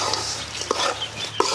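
Avalakki chivda frying in a pan while being stirred, a steady sizzle with two distinct spoon scrapes, close and alone.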